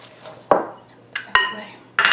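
A few separate clinks and scrapes of a utensil stirring a flax seed cracker mixture in a bowl, three short strokes close by with quiet pauses between them.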